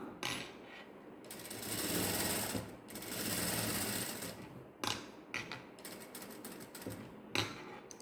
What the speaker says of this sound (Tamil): இப்போ நான் இது மேலே ஒரு படிமான தையல் போட்டுடுறேன் ஒயிட் நூலில்.